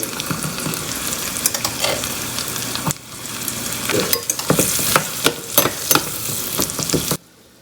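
Onion frying in a pan with garlic, red chilies, turmeric and red chili powder for khichdi: loud steady sizzling with scraping stirring strokes, pausing briefly before resuming strongly, then cutting off.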